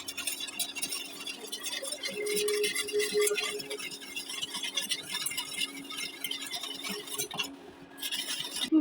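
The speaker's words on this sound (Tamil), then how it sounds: "நல்லா கலக்கு. வெயிட் பண்ணால் எக்ஸ்ட்ரா ஒன்று வச்சுக்கலாம். கலக்கிட்டே இரு." A spoon stirring a homemade chocolate ice cream mixture in a pot, with steady scraping and light clinking against the vessel, close and fairly quiet.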